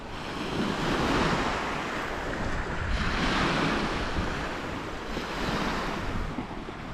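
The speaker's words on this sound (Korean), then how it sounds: "호수인지 바다인지 모를 정도로 정말 크고 파도도 치고" Waves break on the shore of Lake Baikal, surging and washing in slow swells with wind buffeting the microphone, fairly close and steady with no voices.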